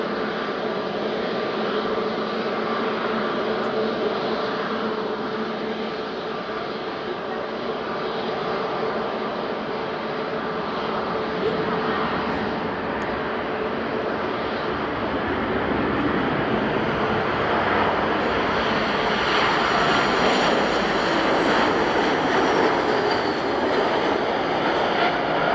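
At Madeira Airport, a landing airliner's engines roar in a loud, sustained wash that builds toward the end, heard without speech.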